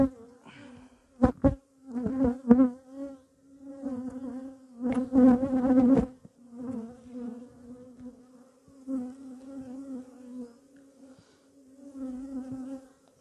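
Honeybees buzzing around beehives: a steady close drone with pitch shifts as individual bees pass near, rising and falling in loudness, no talking.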